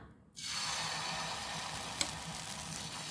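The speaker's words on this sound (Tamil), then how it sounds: "இப்போ வந்து நம்ம கலந்து வச்சிருக்க மாவை எடுத்து நல்ல மெல்லிசா தோசையா ஊத்திக்கலாம்." Thin dosa batter hits a hot pan and bursts into a steady, bright sizzle after a brief quiet moment, close and continuous with one small clack partway through.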